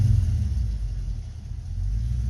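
A car engine idles roughly and misfires during an ignition coil test, a close, loud low rumble that wavers unevenly in strength with no talking.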